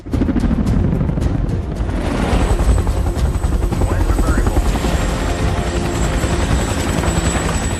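A rescue helicopter flies into a difficult canyon in an action movie, its rotor roar loud and steady throughout, with other scene sounds mixed in.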